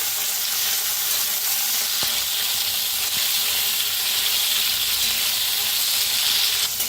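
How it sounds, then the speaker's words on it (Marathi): Green chillies and garlic roasting in a pan, a loud, continuous hiss and crackle of hot oil with a couple of faint knocks from stirring, and no voices. "आता मिरच्या हलवून भाजून घ्यायच्या, त्या डाग पडूस तर"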